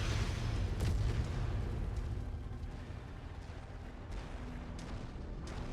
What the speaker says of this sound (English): Those artillery impacts are covering every inch of the target area.